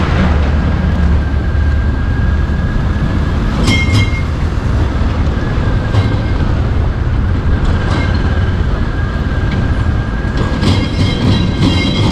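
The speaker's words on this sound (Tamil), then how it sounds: "மகாராஷ்டிரா வண்டி மக்களே, மகாராஷ்டிராவிலேருந்து வந்துட்டு இருக்குது இந்த வண்டி." Train from Maharashtra rolling past near Goa in the Western Ghats, a loud, close, continuous rumble of wagons with rhythmic wheel clatter and occasional metallic squeals.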